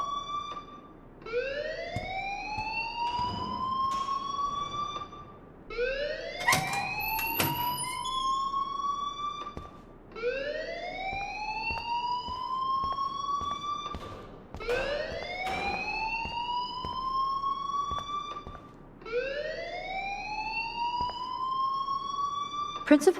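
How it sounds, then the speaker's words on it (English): A school alarm in the video game Life is Strange wails in a rising, siren-like sweep that repeats about five times at an even pace, loud and unbroken. "please turn off that alarm since that's your job"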